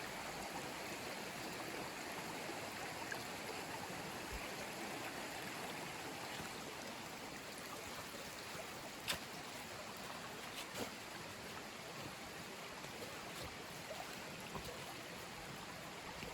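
Steady, continuous rush of running water from a stream in Smoky Mountains National Park, evenly loud throughout with faint occasional clicks and no voices.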